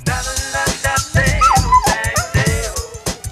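A dog barks and yips in a quick series of short, close, sharp bursts, with whimpering, whining tones running between the barks and no talking over it.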